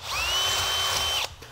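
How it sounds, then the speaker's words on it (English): Power drill enlarging undersized plasma-cut holes in metal, a close, loud steady whine for just over a second before stopping abruptly. "I'll undersize my holes just a hair and then drill them out again"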